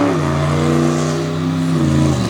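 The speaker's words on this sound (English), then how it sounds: "Lumberjack Chris Zolwicki, the big black GMC body logging truck out of Jefferson, Maine, being driven by the man out of Chicopee, Massachusetts" A big black GMC-bodied logging truck revs its engine hard at a night truck pull, a loud, close, continuous roar whose pitch rises and falls slightly as the throttle is held open.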